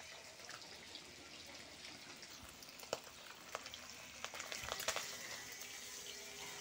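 Singhi fish frying in hot oil gives a steady, quiet sizzle broken by sharp spattering pops that grow more frequent toward the end, with no voices.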